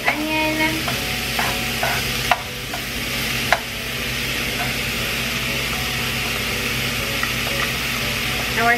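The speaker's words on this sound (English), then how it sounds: "we're gonna just saute all of this until it's nice and soft" Chopped onion and browned breakfast sausage sautéing together in a pan for a cheesy potato casserole, a continuous close sizzle with a few sharp spatula scrapes and clicks early on, no voices.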